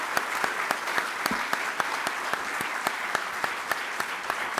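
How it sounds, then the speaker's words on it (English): Sustained applause from a conference audience thanking a panel on coal and gas demand, dense steady clapping with a few sharper claps standing out, moderately distant and continuing without pause. "please join me in wild applause to thank our audience"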